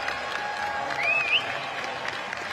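A knowledgeable, enthusiastic crowd at a Manchester velodrome during the National Track Championships claps and cheers in a sustained, dense wash of applause, with a brief whistle rising above it midway.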